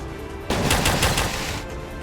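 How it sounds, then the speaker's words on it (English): Sustained automatic covering gunfire from Death Ring: Second Impact, a rapid, loud stream of shots starting abruptly after a brief quiet and rattling on continuously to the end. "Do covering fire on this group."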